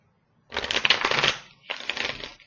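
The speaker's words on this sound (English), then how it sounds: "Last shuffle." Two quick bursts of tarot cards being riffle-shuffled, a longer flutter then a shorter one, crisp and close in a quiet room.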